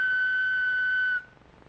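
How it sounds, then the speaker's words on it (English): A single shrill whistle blast held steadily for just over a second, then cut off, leaving quiet room noise. "When you hear me blow on this whistle"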